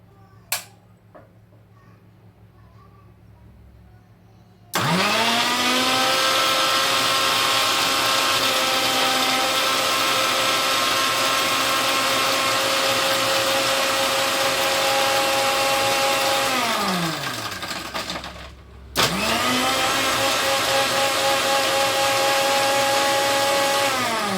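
A new electric mixer grinder starts abruptly after a quiet moment and runs with a loud, steady whine, slows down and stops briefly near the end, then restarts and keeps running at full speed.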